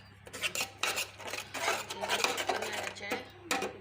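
A utensil scrapes and stirs turmeric and chili powder in a cooking pot, producing steady close rasping and clinking strokes in a continuous rhythm.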